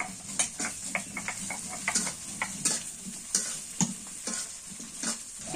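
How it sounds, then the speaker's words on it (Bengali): Onion, chili and dried shutki fish fry in a pan with a steady bright sizzle, punctuated by repeated sharp scrapes and clinks of a utensil stirring against the metal. "পেঁয়াজ মরিচ আর শুটকিটা ভাজা হয়ে গেছে"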